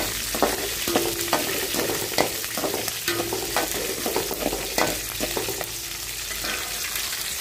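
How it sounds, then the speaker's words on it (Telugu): Green chillies frying in a pan with cumin and coriander seeds, a steady sizzle broken by repeated stirring scrapes and clacks at close range, with no voices. "పచ్చిమిరపకాయలు వేగిపోతున్నాయి."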